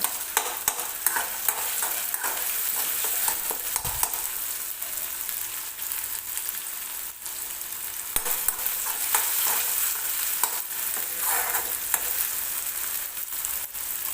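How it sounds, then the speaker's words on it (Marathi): Tomatoes roast and are stirred in a pan, giving a soft, steady sizzle broken by scraping strokes, heard alone without talk. "टोमॅटो व्यवस्थित भाजून घ्यायचे आपल्याला"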